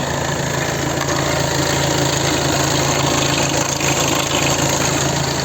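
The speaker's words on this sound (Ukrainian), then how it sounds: "Каже, як двигун працює на холодно. Двигун повністю холодний." Steady, loud rumble of a fully cold 2020 VW Sharan 2.0 TDI diesel engine idling, with a constant mechanical clatter and vibration throughout and no talking.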